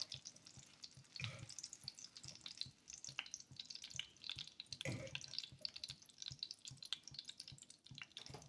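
Eggplant slices sizzle and crackle steadily in oil in a pan with fine popping throughout, fairly quiet and close, with no voices.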